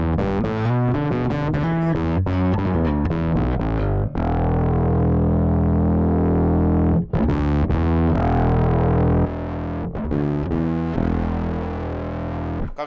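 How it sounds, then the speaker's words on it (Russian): Bass guitar played through an MXR distortion pedal set to its silicon-transistor clipping mode, giving a loud, continuous, heavily saturated riff of thick sustained notes with brief gaps, alone with no voices. "Первый — это LED дисторшен, и второй — это силиконовый дисторшен."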